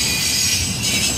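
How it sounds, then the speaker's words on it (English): A train rolls past on a New Year's run, giving a fairly faint, continuous rumble with a thin high squealing tone from the wheels on top, steady throughout with no voices. "I just heard the train"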